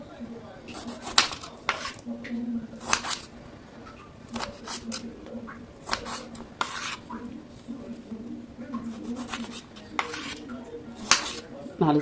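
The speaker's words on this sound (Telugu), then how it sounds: "ఇలా టమాటో పీసెస్ అన్నీ కూడా కట్ చేసేసుకోండి." A knife chops tomatoes into pieces with repeated sharp taps against a board or metal dish, close and fairly loud, with brief clatter of utensils in a home kitchen.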